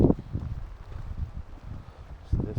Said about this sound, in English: I think I can hear water, but it's probably wind.